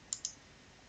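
Two crisp, close clicks of a computer mouse in quick succession during database backup admin work, then quiet.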